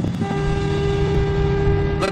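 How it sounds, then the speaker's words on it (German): A car horn blares in one long, steady tone, loud and close, holding the same pitch throughout over a low engine rumble. "Ich werde jetzt mal so richtig auf die Hupe drücken."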